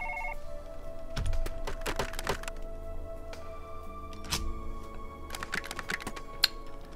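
A phone rings in the video game Surgeon Simulator among clicks and thumps from game handling. A short electronic tone opens and a few dull knocks and rattles follow, fairly quiet, with no talk.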